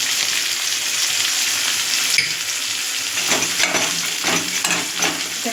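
Chopped onion with green chilli and salt sizzles in hot oil in a wok, a steady loud frying hiss, joined midway by scraping stirring strokes in an uneven rhythm; no talking.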